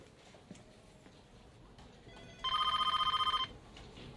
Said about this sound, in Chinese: 电话在响。